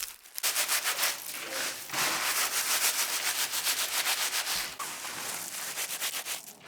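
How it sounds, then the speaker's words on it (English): Sunflower heads rubbed back and forth over a metal mesh set on a bucket, making steady, rhythmic rasping strokes that are close and fairly loud with no voices. "You can also put a metal mesh on a bucket and rub the flower heads on it."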